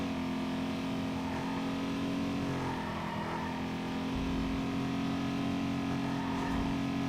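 Race car engine on nitrous boost in a racing video game, a steady loud droning roar with a sustained low hum, continuous throughout with no talk.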